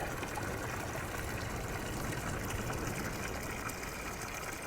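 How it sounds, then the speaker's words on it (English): Spring water flowing straight out of the earth drains into a basin and runs across a stone platform toward the ocean, giving a steady, even wash of trickling water with no voices. "water coming straight out of the earth and draining into here and moving across this platform"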